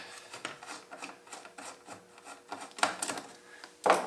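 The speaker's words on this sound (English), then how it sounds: "all you have to do is remove these screws" Screws being removed from an HP 8753E vector network analyzer, a rapid series of short rasping, ratcheting turns, close and fairly quiet, ending in a couple of louder clicks, with no talking.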